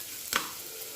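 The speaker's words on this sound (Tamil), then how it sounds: "பருப்பை இந்த மாதிரி தாளித்து" Chana dal and toor dal tempered with spices sizzle steadily in a hot pan for a little millet usili upma, with a brief louder crackle or stir in the middle.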